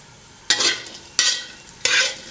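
Ingredients for a fermented fish chili dip dry-roast in a pan, with three distinct scraping stirs, each a loud rasping sweep that fades, alone and close.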